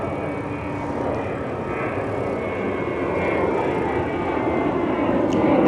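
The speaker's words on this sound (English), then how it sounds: "There's a big plane taking off right there." A big plane takes off near a pier during a Fleet Week air show, a loud, steady roar that swells gradually, with no talk over it.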